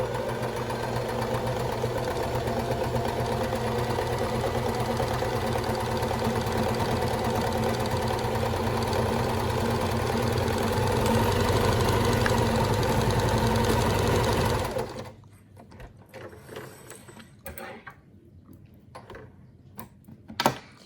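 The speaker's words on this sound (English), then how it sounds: "All right, so now we're going to start to sew it." A sewing machine stitches a fabric face mask with a steady, rapid mechanical whir for about fifteen seconds, then stops, leaving quiet handling noises and a small knock.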